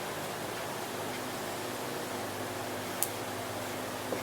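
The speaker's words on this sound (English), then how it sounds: "If you hear the noise in the back, that's a fan." An electric fan runs in a workshop where plastic tool cases are being melted down, giving a constant, faint broadband whoosh with no change in level and one tiny click partway through.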